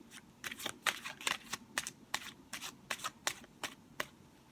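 Tarot cards being shuffled by hand in a quick series of crisp riffling bursts, close and clear, with no talk over them.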